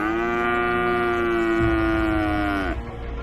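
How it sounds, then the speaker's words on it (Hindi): A cow lets out one long, loud, sustained moo that holds steady for nearly three seconds and then cuts off, with no other voices around it. "दिनेश समझ जाता है कि उसकी गाय क्यों रंभा रही थी।"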